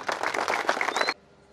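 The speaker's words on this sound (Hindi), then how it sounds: "जोरदार तालियां।" Audience applause at a Tipu Jayanti celebration in Bijapur: a short burst of dense clapping that stops abruptly after about a second, leaving faint background.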